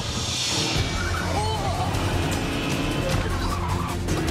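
A V8 supercar racing simulator, loud and steady throughout, with engine roar and intermittent tire squeal and skidding over a continuous mechanical drone.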